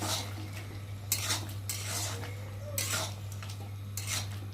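A spoon stirring crab curry with potatoes in a metal pot, giving soft scraping and clinking strokes at irregular intervals over a steady low hum, close but fairly quiet.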